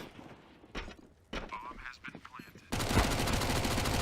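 Gunfire on the Vertigo map in Counter-Strike during a competitive match, with scattered shots followed by sustained rapid rattling fire that continues to the end.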